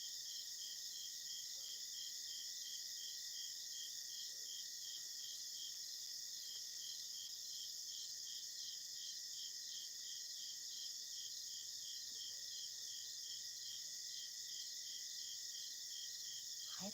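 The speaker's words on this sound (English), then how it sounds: "I always think about the crickets that like put you in a trance." Outdoor night crickets keep up a dense, unbroken chorus of chirps, a steady pulsing drone with a faint low background rumble and no talking.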